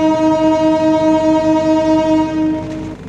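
A KA Singasari passenger train at Kroya station sounds a loud, sustained horn for about three seconds, its steady chord fading slightly at the end, with faint rail rumble beneath.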